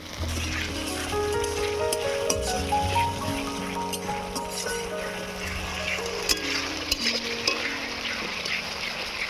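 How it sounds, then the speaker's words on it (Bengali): Chopped onion with ginger and garlic paste browning in a pan, sizzling steadily up close while a spatula stirs and scrapes in a loose, irregular rhythm. "আদা রসুন আর পেঁয়াজকে লাল লাল করে ভেজে নেবে"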